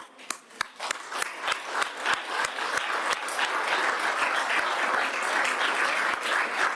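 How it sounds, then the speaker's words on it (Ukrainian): Audience at a meeting with the president and Bulgarian political figures applauding themselves, starting as scattered distinct claps that quickly build into dense, sustained clapping from many people. "Я хочу, щоб ви поаплодували собі за, за все, що ви зробили для наших людей."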